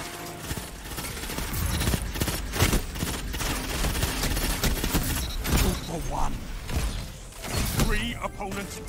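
Pulse rifle firing in Destiny 2, heard as repeated rapid bursts of gunfire over a dense, busy game soundtrack, with a voice talking over the shots.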